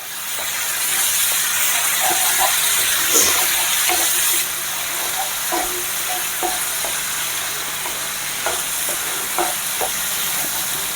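Onions sizzle loudly in a pan while being stirred to brown them for onion chutney, a dense steady hiss with scattered scrapes and taps of a spoon, close up and without speech; the hiss eases slightly after a few seconds.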